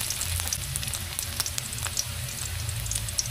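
Onion and garlic sautéing in a pan, a steady close sizzle with scattered light scraping from stirring, no talk over it.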